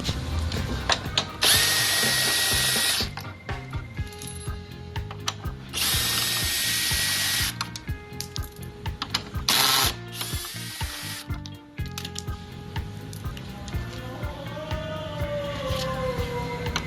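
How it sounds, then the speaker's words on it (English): Power tool and ratchet remove 10mm bolts from the grill of a 2019 Dodge Ram 1500: several bursts of a whirring power driver alternate with rapid ratchet clicking, close and loud, with no talking. "there's 3 10 mil bolts that needs to be removed on each side"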